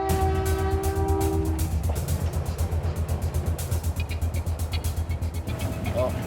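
Ontario Northland Railroad train approaching: a sustained horn blast at the start fades into a rhythmic, pulsing rumble of wheels and cars that grows heavier, loud and continuous throughout.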